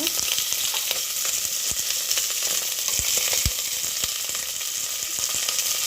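Onions and garlic frying in two spoons of oil, a dense, steady close sizzle with a few soft stirring taps and knocks of a spoon against the pan.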